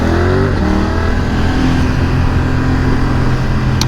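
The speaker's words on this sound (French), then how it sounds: "Donc quand on a besoin d'accélérer, elle accélère." A BMW F900R motorcycle engine accelerates hard, its revving tone climbing steadily and staying loud and close throughout, with continuous wind and road roar underneath.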